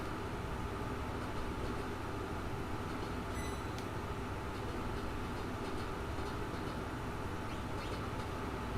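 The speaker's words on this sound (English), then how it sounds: "Ghost train with no music." The Phantom Train in Final Fantasy 6 gives off a steady, low, continuous rumble that holds at an even level the whole time, with no music or voices over it.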